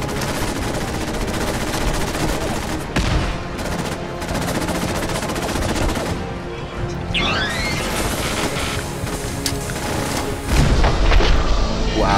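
Grenade blasts and rapid gunfire from Fallout 4 in survival mode make a dense, loud, continuous barrage of shots and booms, with a heavier burst near the end.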